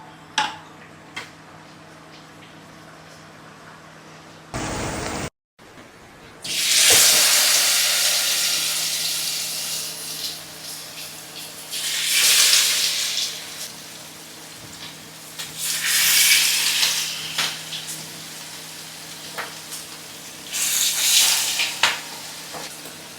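A pot of food boiling and simmering on a home stove with only a little water: a steady bubbling hiss rises and falls in repeated loud waves, with light clicks and stirring noises between them.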